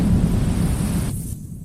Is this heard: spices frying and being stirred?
no